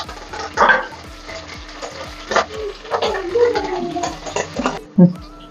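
Garlic, green chilli and curry leaves stirred in a hot pan, with scraping spoon strokes over a soft sizzle and a few sharp knocks, close and moderately loud.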